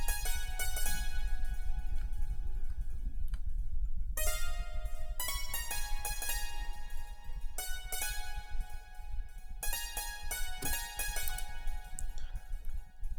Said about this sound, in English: The next sound is a